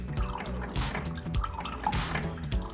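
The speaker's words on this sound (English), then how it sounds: "Good old Keurig's taking a second warming up." A Keurig coffee maker brews with dripping and gurgling liquid sounds, a steady close trickle broken by repeated low burbling pulses.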